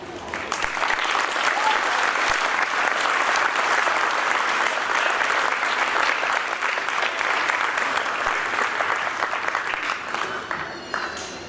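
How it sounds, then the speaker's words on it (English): A concert audience applauds a high school student percussionist from the Newark High School Band at a spring band concert, with dense, steady clapping sustained for about ten seconds before thinning out at the end. "Let's give Brandon another round of applause"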